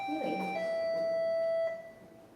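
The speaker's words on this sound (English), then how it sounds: "The doorbell rings at Haejin's house." A doorbell chimes at a house in Korea, a clear electronic two-tone ding-dong with a long ringing tone that fades out, fairly close with faint background.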